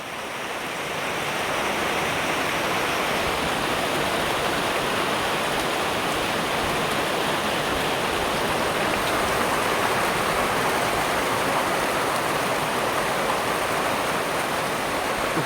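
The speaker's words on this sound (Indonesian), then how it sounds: "Hujannya makin deras lagi ah." Heavy rain pours steadily during a storm at an outdoor market, a dense, continuous hiss that swells within the first second and then holds loud and unbroken with no voices.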